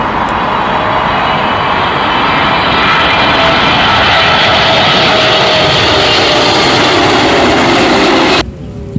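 A steady, loud whirring engine drone holds constant for several seconds, then cuts off abruptly near the end, like a motorized toy airplane running close by.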